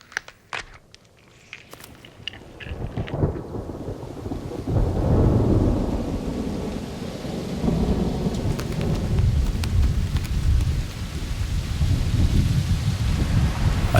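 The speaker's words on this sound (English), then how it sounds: "A sudden storm blasts the steppe, and it washes away the urine trails." A sudden thunderstorm sweeps across open steppe: thunder cracks and rumbles early, then heavy, steady rain builds into a dense, continuous roar that lasts to the end.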